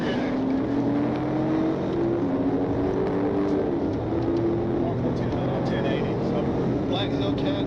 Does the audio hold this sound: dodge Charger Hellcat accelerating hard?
yes